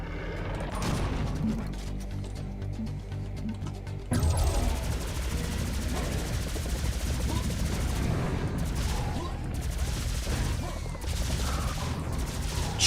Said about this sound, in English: just use the plasma gun